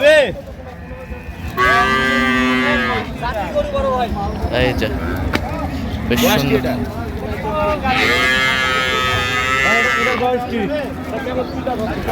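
Cattle at a rural livestock market in Dinajpur: a cow and calf, with several loud, drawn-out moos close by, repeated over a steady crowd murmur and people talking.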